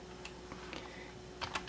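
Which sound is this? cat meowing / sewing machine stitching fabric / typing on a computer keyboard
typing on a computer keyboard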